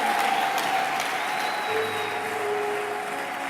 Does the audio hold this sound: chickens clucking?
no